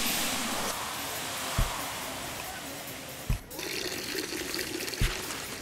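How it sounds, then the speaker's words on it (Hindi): Water pours steadily into flour for mixing dough in a cartoon scene, a continuous splashing hiss broken by three soft thuds. "आटा मिलाओ पानी के साथ"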